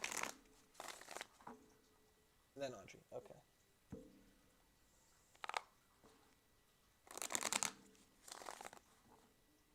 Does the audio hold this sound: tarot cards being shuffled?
yes